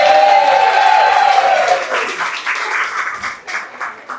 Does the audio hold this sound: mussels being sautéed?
no